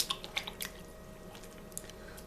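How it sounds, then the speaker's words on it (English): Homemade butter is mashed around in a bowl of clear rinse water, giving faint soft squishes and small wet drips in an irregular rhythm, quiet and close with no voices. "I'm mashing this butter all around in it, is staying clear."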